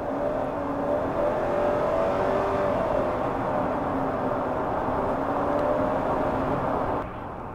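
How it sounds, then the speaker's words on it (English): A 2020 Honda CR-V 2.0 i-MMD hybrid floored from low speed, a steady rising engine and motor drone with whirring tone that holds loud and even before easing off at the end. "so if you floor the car."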